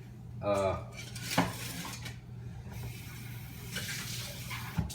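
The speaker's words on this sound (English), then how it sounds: "I'm gonna wash this really quickly" Dishes and cutlery clatter and scrape at a kitchen sink with water running, several sharp clinks and rattling bursts spaced over a soft wash of water, close and fairly quiet.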